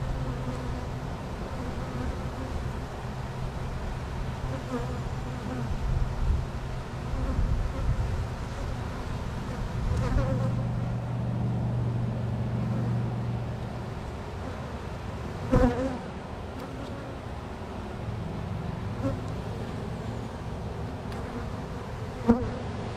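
Honey bees buzz steadily around hive frames as an inspection goes on, a dense, continuous drone close by with a few faint knocks and rustles.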